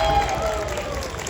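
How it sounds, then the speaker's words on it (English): Audience at a Barney and Out of the Box nostalgia panel gives a quick round of applause for the guests, a short burst of clapping and crowd noise with a voice briefly audible. "I'm going to give them a round of applause real quick."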